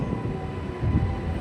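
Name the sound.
MEMU train entering Dalasnuru station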